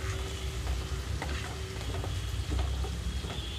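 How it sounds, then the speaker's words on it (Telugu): Chopped onions fry over a medium flame in a pan on the stove, giving a steady close sizzle with occasional stirring scrapes and clicks throughout, no talking. "కట్ చేసి పెట్టుకున్న ఉల్లిపాయలు ఉల్లిపాయలు కొంచెం సాఫ్ట్ కలర్ అయ్యే వరకు వేయించుకోవాలి"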